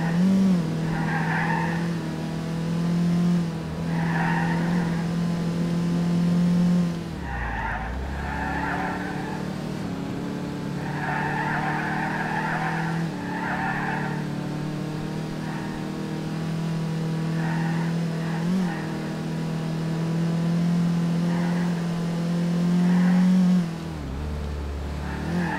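A 2008 Infiniti G37 Coupe Carbon Edition in GTA IV on the Okutama GP track, its engine droning steadily throughout with repeated tire squeals and skids, loud and close, and two brief dips where the engine note drops.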